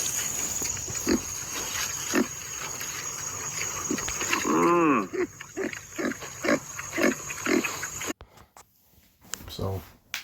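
A pig grunts and snuffles up close in repeated short, rough bursts, with a longer squealing call in the middle, over a constant background hum and occasional voice.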